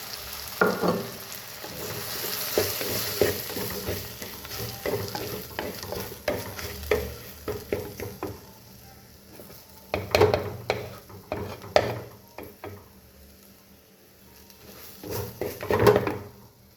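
Food sizzles and crackles in a hot pan while a utensil stirs and scrapes through it, steady frying with irregular clinks and bursts of louder hissing.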